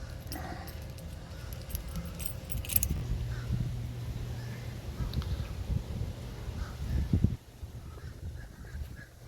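Keys jangle and rattle softly while the fob buttons are pressed for a 1986 Jeep Grand Wagoneer. Faint clicks sit over a low background rumble, then the sound drops quieter near the end.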